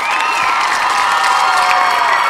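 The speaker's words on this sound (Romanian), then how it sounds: "hai să aplaudăm pe Ada!" A studio audience on a Romanian reality show cheers, whoops and applauds for a contestant, a loud, steady wall of crowd noise with children's shouts mixed in.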